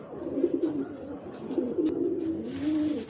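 Pigeons coo steadily in soft, repeating low phrases across the whole stretch, close by, with no voices.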